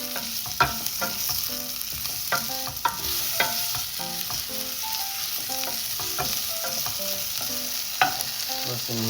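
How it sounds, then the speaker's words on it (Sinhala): Food being stirred and fried in a pan, with a steady sizzle beneath scattered clinks and scrapes of the utensil against the pan, close and moderately quiet. "මේ ගාන තවත් බැදින්න ඕන හොඳට."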